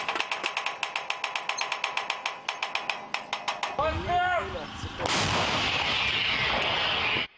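Ukrainian artillery gun supporting front-line positions near the Avdiivka direction fires in a fast, regular string of sharp bangs, then gives way to a dense, sustained roar, loud and close, with no talk.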